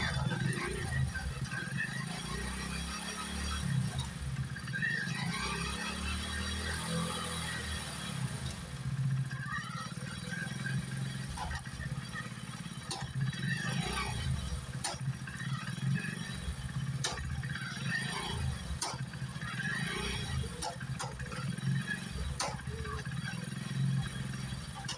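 Hero Splendor BS6 motorcycle wheel giving off faint repeated squeaks and clicking mechanical rattles over a steady low hum, with some voice in the background throughout.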